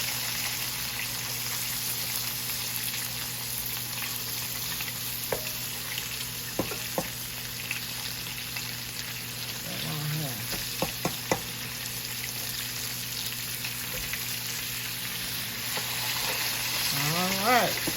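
Pork chops fry in a pan with a continuous close sizzle, broken by a few faint clicks and utensil taps and brief spatters near the end, with no speech.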